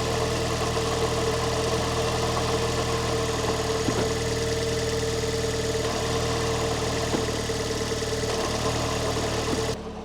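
A car engine idles steadily with the clutch pressed, giving a constant hum with a whirring, grinding tone from a worn thrust bearing and faint periodic knocks, close and continuous throughout.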